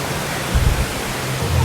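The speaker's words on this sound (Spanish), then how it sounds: "Wow, mira, es una cascada desde allá" Waterfall at Xcaret park in Mexico, a brief, steady broadband rush of falling water with a low rumble, fairly loud and alone.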